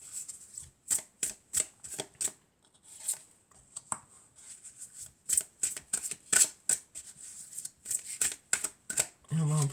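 A deck of tarot cards shuffled by hand, close and crisp, with rapid bursts of riffling and flicking snaps in an irregular rhythm, briefly pausing before resuming.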